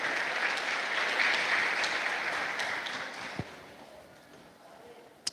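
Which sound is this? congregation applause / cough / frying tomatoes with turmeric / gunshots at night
congregation applause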